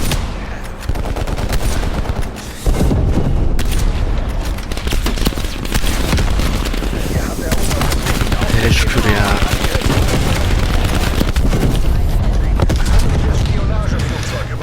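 Loud, dense gunfire from the Call of Duty Cold War beta, with rapid, overlapping automatic bursts and booms that run nearly the whole time. A voice is heard under the shooting.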